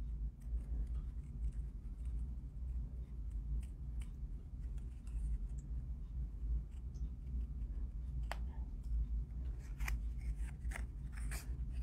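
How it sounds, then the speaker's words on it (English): Scissors cut paper for seashell cards with a steady, close, continuous crisp rasp and intermittent sharper snips throughout, with no voices. "you want to move your paper, not your scissors."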